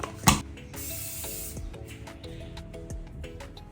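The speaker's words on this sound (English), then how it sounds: "I'm gonna use the Stronghold spray by Sebastian Professional." Short hissing spurts of Sebastian Professional Stronghold hair spray from an aerosol can, close and soft, amid faint background clatter.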